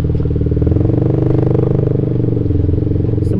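A motorcycle engine runs at a steady idle close by. Its even, throbbing drone holds alone throughout, with a brief clatter at the end.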